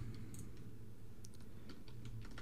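Keys clatter on a computer keyboard in short, quick bursts of light clicks, close but quiet over a low hum, with no talking.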